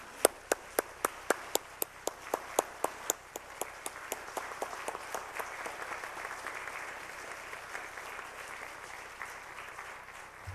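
A congregation at a Wednesday church service claps to welcome a speaker: a run of sharp, evenly spaced claps at the start, thickening into a steady, fairly faint wash of applause from many hands.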